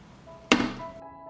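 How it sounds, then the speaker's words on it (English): A single dull metallic thunk as a pot is set down on a stove, close and brief, with a faint ring fading afterward. "I put the pan on the stove."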